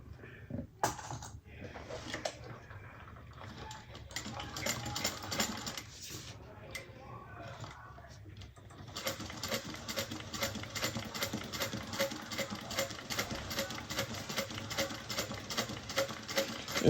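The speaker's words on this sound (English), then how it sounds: "I'm just top stitching 1/8 of an inch" A sewing machine top stitches an eighth of an inch along the curves of a handmade bag, running in steady rapid bursts that grow louder and continuous in the second half, with faint talk at times.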